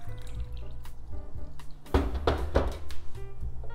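Water pours and splashes into a glass in a short, gurgling fill of about 250 millilitres, with a few clinks and drips, close by.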